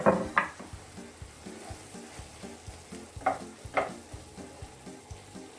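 Vegetable ragout with garlic sizzles steadily in a pan while a utensil stirs it, several soft scraping strokes rising over the continuous frying hiss, close and moderately quiet.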